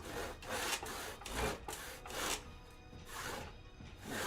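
Rhythmic strokes of a hand saw cutting wood for Maori carving, steady back-and-forth rasps repeating at an even pace, close by with no voices.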